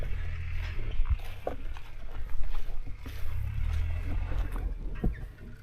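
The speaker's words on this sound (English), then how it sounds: "God, this engine doesn't sound healthy." A slow-moving farm vehicle engine at an olive grove, a low rough rumble that sounds unhealthy, grinding steadily nearby with faint background noise and no clear talk.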